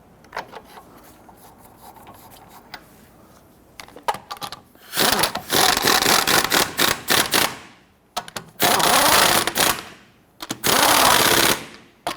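Lug nuts on a Nissan Frontier front wheel are run down with an impact wrench in several loud, rapid rattling bursts, each roughly a second or two long, separated by short pauses and faint handling clicks.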